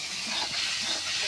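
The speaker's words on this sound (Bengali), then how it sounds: "পটলগুলো এখন ভাজে নিব।" Pointed gourd (potol) slices coated in salt and turmeric fry in hot oil, giving a steady, close, broadband sizzling hiss that stays even throughout with no talk.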